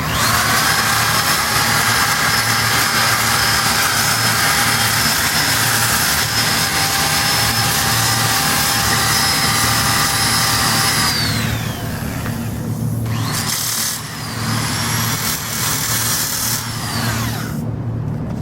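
An electric sander buzzes loud and close on zinc came for stained glass, a continuous high whine that runs steadily, then briefly drops and restarts near the end.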